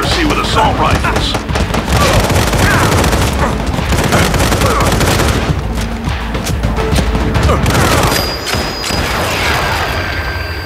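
Assault rifle fire and explosive booms in the Sniper 3D mobile shooting game, a dense, loud and continuous barrage of shots and impacts lasting throughout, with a voice speaking over it.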